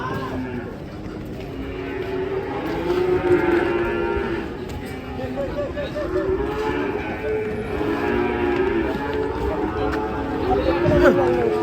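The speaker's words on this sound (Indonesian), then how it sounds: "Sapi lewat." Many cattle moo repeatedly, overlapping low calls from a herd nearby, with people chattering in the background.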